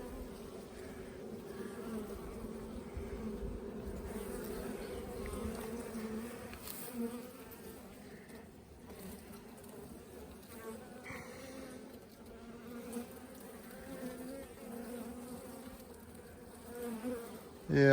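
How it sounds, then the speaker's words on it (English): Honey bees buzz steadily around an open beehive on a farm, a dense continuous hum at moderate distance with no talking, ending in a brief close knock. "Got some brood. Bees in the bottom box down there."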